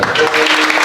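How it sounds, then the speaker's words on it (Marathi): Loud, dense clapping from a crowd at a devotional temple gathering marking Sant Marotrao Maharaj's silver jubilee, a brief, close, steady wash of applause. "टाळ्या वाजवा एकदा."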